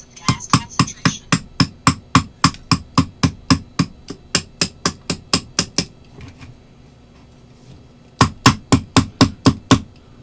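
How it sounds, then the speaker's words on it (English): Steady metallic taps on the lock plate of an 1850s Belgian 16-gauge double-barrelled shotgun, struck to pop it loose: about twenty close, sharp, evenly spaced hits, a pause, then a second quick burst. "So what I'm doing now is I'm just tapping it and trying to get this plate to pop itself off."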